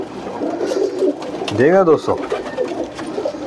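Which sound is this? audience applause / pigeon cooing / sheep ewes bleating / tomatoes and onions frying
pigeon cooing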